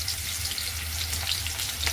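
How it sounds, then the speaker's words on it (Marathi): Onion frying in oil in a kadai, a dense steady sizzle with fine crackles, close and continuous, no talk. "आता कांदा तेलात फ्राय करून घ्यायचा आहे."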